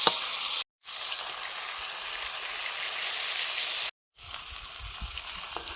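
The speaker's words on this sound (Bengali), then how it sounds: "বেগুনগুলো ভেজে নিচ্ছি" Eggplant pieces frying in hot oil give off a dense, steady sizzle, broken by two short silent gaps.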